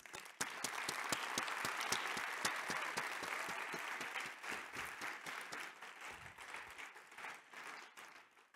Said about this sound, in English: let's show them how much we appreciate them, all their hard work with a loud and warm round of applause